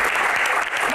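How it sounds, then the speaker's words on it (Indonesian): Audience applause at an Indonesian Q&A event, a short burst of dense clapping with a voice starting to speak over it at the end. "Tepuk tangan."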